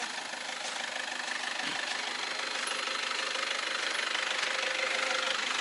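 A tractor engine runs steadily as it drives up out of mud, a continuous dense mid-pitched drone with slight vibration, heard up close and without pauses.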